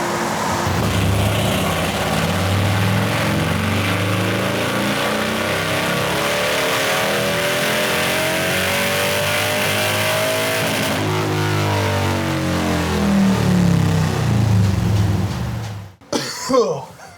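A Harley-Davidson Low Rider ST motorcycle runs on a dyno, its engine revving loud and close in sustained rising and falling sweeps for about sixteen seconds before cutting off sharply.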